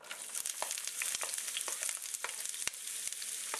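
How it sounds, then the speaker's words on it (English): Onion frying in vegetable oil in a large nonstick skillet gives a dense, bright, steady sizzle with quick crackling pops throughout, close and alone. "In a very large nonstick skillet, add your 3 tablespoons of vegetable oil. To that we will add our onion"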